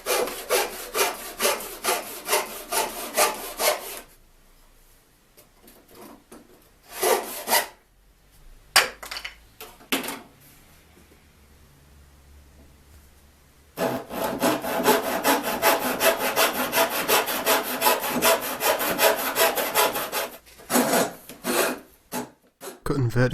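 A cheap, rusty hand saw cutting wood with rhythmic push-pull strokes, close and rasping, in several bursts separated by pauses, with a long steady run of sawing in the later part.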